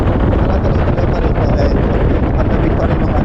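Strong wind roars against the microphone on a moving vehicle during a drive home, a loud, continuous buffeting rush that fills the whole stretch and buries any other sound.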